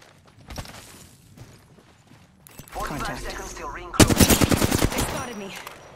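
Rapid gunfire bursts in a first-person shooter game, sporadic shots at first, then a loud sustained machine-gun volley near the end, with a voice talking over the middle.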